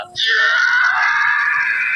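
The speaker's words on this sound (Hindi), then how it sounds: "ये तो किसी के चिल्लाने की आवाज है।" A person screams somewhere along a dark, dead-end path, a sustained high-pitched wail that starts abruptly and holds loud and steady for nearly two seconds without a break.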